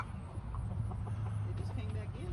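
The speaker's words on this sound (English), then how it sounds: "Are you talking to the chickens over there?" Chickens clucking softly near a spot where people work with a tractor, their short calls scattered over a steady low engine-like hum with voices nearby.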